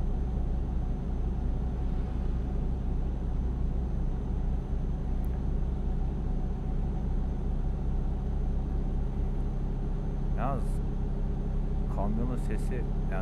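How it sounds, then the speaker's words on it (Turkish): A truck engine in Euro Truck Simulator 2, heard loudly from inside the cab, drones in a steady rumbling hum with no change in pitch, with a faint voice heard briefly near the end. "Tırın sesi bayağı fazla, hani içeri bayağı fazla veriyor."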